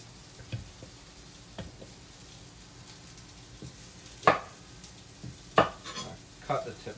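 A kitchen knife slices vegetables into quarter-inch rings on a cutting board, giving a handful of sparse, crisp cuts spaced a second or so apart, fairly close and quiet.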